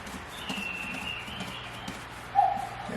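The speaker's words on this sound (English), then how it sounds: "There's my cuckoo clock." A cuckoo clock calls indoors with a soft, brief tone that rises a little above a steady hushed room background.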